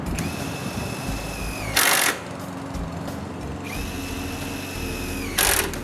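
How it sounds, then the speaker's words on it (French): A power drill drives screws through pre-painted trim at the base of a roof gable on a new workshop, two short high-pitched whirring bursts over a steady rumbling background, close by, no speech. "puis je la visse en place"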